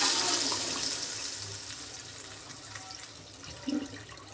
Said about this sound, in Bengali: ঝোলের জন্য পরিমাণ মতন জল দিয়ে দিলাম,